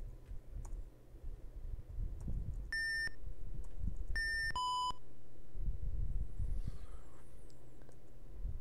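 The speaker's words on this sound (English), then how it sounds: "So the earlier higher beep is the piece you just placed." A puzzle game emits crisp electronic beeps as pieces are placed and swapped: two short multi-tone beep pairs a second or so apart, over soft clicking and low background rumble.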